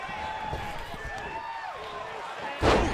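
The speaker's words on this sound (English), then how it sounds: "Ooh, sidewalk slam." A sidewalk slam in a women's wrestling match, a heavy thud of a body hitting the ring mat near the end, following commentary talk.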